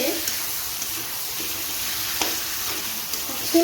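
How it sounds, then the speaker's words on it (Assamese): Meat for a curry sizzles steadily in hot oil in a pan while a spoon stirs it, with occasional scraping knocks against the metal and a louder splutter at the end. "এতিয়া অকণমান লৰাই দিওঁ।"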